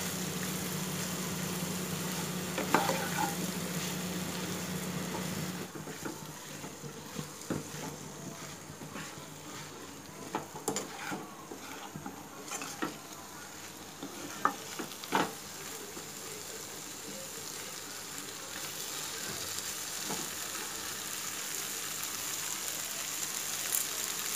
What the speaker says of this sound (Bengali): কম আঁচে ভেন্ডিটাকে আমি ভালো করে মশলার সঙ্গে মিশিয়ে নেব।